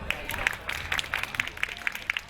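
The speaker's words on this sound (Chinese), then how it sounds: "要不要给他掌声？" Audience at a school Hakka language and culture showcase in Taipei applauding, a dense patter of many hands clapping at moderate distance, with a voice over it.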